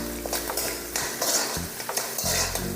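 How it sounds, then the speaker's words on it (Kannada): Curry leaves and turmeric go into a hot pan, with a steady sizzle of frying and repeated scraping, clinking strokes of a utensil stirring against the pan, close and clear. "ಈಗ ಕರಿಬೇವಿನ ಸೊಪ್ಪು, ಸ್ವಲ್ಪ ಅರಿಶಿನ, ಸ್ವಲ್ಪ ಅಷ್ಟೇ ಹಾಕೋದು."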